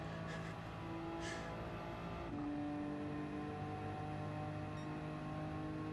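A McLaren race car in Gran Turismo 7, running the Suzuka 6 Hour endurance race, holds a steady, continuous engine drone whose pitch shifts partway through, with no voices over it.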